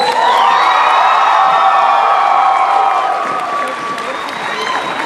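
A crowd at an anime convention martial arts demonstration applauds, cheers and whoops loudly and steadily, the roar dipping slightly toward the end with a few voices rising above it.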